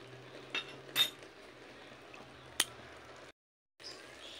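Ghee added to a pot of Bengali muri ghonto, with a few faint metallic clinks of spoon and lid against the pot in a quiet kitchen, then a brief pause.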